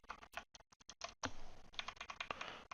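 Computer keyboard keys pressed in quick, uneven bursts of crisp clicks, with sparse single taps at first and then denser typing, recorded close and alone with no voices.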